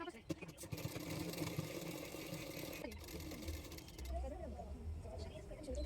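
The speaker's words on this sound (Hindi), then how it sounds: "दूसरे साइडों में भी मैं इसी तरह से फिटिंग के लिए सिलाई कर लूँगी।" A sewing machine stitches the fitting seams of a double katori blouse, its mid-pitched motor whirring steadily throughout, with someone talking over it.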